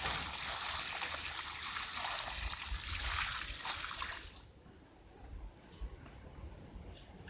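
Water poured onto the roots of a newly planted plant, a loud continuous splashing hiss for about four seconds, then stopping abruptly and leaving soft rustling and low background noise.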